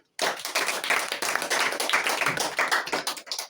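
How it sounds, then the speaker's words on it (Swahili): A group of schoolchildren breaks into a burst of clapping, a dense, fairly close patter of many hands that keeps going for a few seconds with no talk over it. "Makofi"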